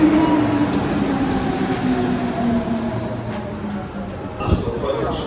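Paris metro train rumbling steadily at close range, with a sustained low drone, faint tonal whine and a brief clunk near the end, while voices murmur faintly underneath.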